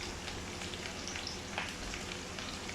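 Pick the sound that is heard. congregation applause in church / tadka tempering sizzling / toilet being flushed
tadka tempering sizzling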